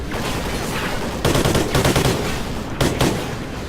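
Heavy video game gunfire from Call of Duty: Ghosts, with dense automatic bursts over a loud, noisy battle background, fairly close and continuous.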